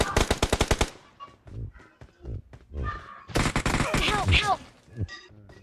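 Rapid automatic gunfire from PUBG, a tight burst of about eight shots up front, then scattered game effects and a second dense, loud stretch of shooting and impacts, with brief talk mixed in.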